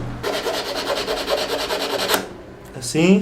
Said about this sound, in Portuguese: limar um bocado em cima, em baixo, e torná-la mais afiada